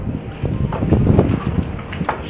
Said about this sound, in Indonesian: keadaan cuaca lagi badai